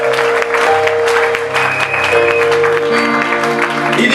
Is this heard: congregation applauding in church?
yes